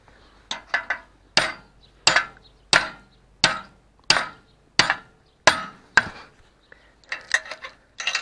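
Sharp, evenly spaced hammer blows ring out one after another, about a dozen strikes, loud and close with brief metallic decay between hits, during repair of a harrow.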